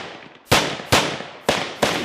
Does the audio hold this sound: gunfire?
yes